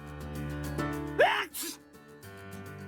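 A character in the Baldr Sky visual novel gives a single sharp sneeze, a quick gasping intake and then a burst, over soft synth background music.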